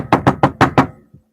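Five quick knuckle knocks on a shared bedroom wall, close and fairly loud in an even rhythm, followed by a couple of faint softer taps.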